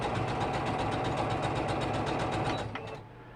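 A sewing machine sews down the side of a fabric bird piece, a rapid even needle chatter running continuously before slowing and cutting off near the end, leaving a faint hum.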